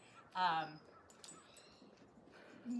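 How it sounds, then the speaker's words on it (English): A single short, high yelp from a puppy, close by, followed by quieter rustling and small knocks. "got a little barky puppy over here"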